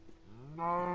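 A cow's moo from a game, a single rising low call that swells and holds steady, clear and close with no talking.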